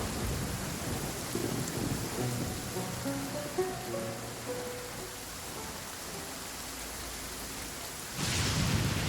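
Rumbling thunder rolls through a steady downpour of rain in a game storm, the rain hissing loudly and continuously while a louder burst arrives near the end; no voices.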